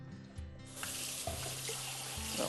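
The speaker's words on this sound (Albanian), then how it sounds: "Marrë dhe lag pak me ujë." A kitchen tap runs in a steady, close rush to wet something during preparation of a garlic and walnut cream, starting after a brief quieter moment and continuing to the end.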